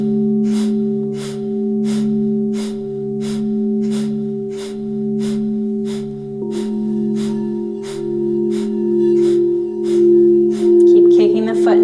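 Rapid, rhythmic Breath of Fire exhalations during a kundalini yoga exercise, pulsing steadily about twice a second over a sustained, loud harmonic soundbath drone, with a brief rustle at the end.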